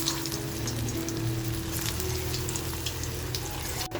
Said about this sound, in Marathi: आता एक एक बॉल आहे ना आपण असे व्यवस्थित फ्राय करून घ्यायचे